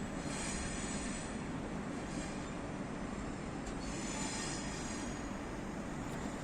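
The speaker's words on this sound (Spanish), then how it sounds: "el claqueo de las ruedas sobre los dilatados carriles lo delata" An old electric train rolls along expanded rails, its wheels giving a steady, faint rattling clatter with occasional squeal over continuous rolling noise.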